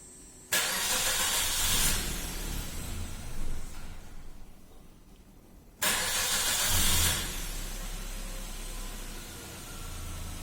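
A Suzuki car engine cranked and started during a diagnostic scanner check, with a sudden loud start settling into an idle, then a second start-up a few seconds later, close by and with no talk.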